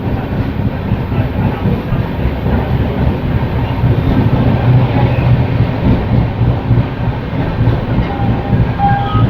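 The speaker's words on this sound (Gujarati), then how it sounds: "આપણી ટ્રેન પહોંચી છે અત્યારે ખંભાળિયા રેલવે સ્ટેશન." A train arriving at Khambhalia railway station on a newly doubled Rajkot–Jamnagar–Kanalus line, with a loud continuous rumble and rhythmic clatter of wheels on track, swelling slightly midway, no voices.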